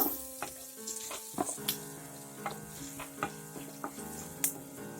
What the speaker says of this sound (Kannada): ಕರಿಬೇವು, ಆನಿಯನ್ ಚೆನ್ನಾಗಿ ಫ್ರೈ ಆಗಬೇಕು.